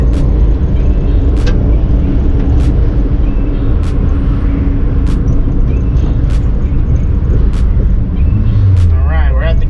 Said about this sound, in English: The way these motors sound, they're just so good.